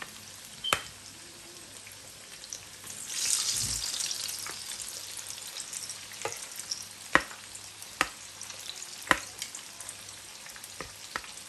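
Lahori fish frying in oil over a medium flame, a soft steady sizzle that swells briefly, punctuated by sharp clicks and taps of utensils against the pan.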